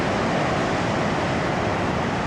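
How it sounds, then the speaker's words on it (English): Ocean waves crash along the Great Ocean Road coast as a loud, continuous surf roar mixed with wind buffeting, heard from a short distance with no talk. "those are some loud waves. I can hear them crashing from here"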